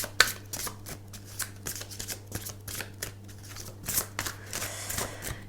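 Tarot cards are shuffled with a quick, crisp run of soft riffling and flicking snaps, close and fairly quiet over a low steady hum, no voices.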